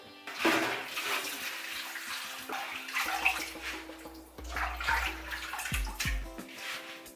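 Water splashes and sloshes in a sink as spinach is rinsed, with running water, gurgles and a draining rush toward the end.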